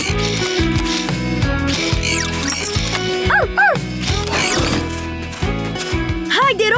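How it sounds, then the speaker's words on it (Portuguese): Cartoon puppies from a children's animated rescue series bark in quick, yappy bursts over bright background music, with a few yips and whines mixed in. "é só latir por ajuda!"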